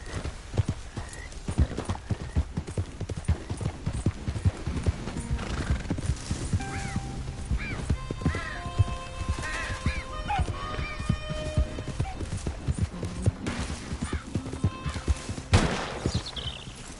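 Horse galloping in Red Dead Redemption 2, rapid rhythmic hoofbeats with several whinnies and snorts, plus scattered sharp cracks in the background.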